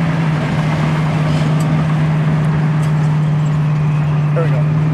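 A 1969 Mustang Mach 1 engine drones heavily from inside the car as it pulls along in third gear, a loud, steady low hum with road rumble and no clear rise in pitch.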